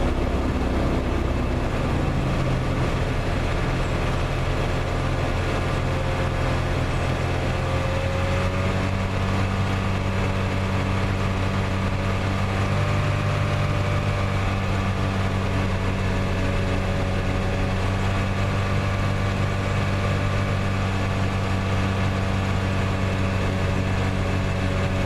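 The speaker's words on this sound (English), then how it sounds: "So let's just kind of raise the RPMs" Engine of a 1987 Plymouth Gran Fury with a fault, revs raised: a steady loud low drone held throughout at a constant elevated pitch with a slight waver, close and uninterrupted, no talking.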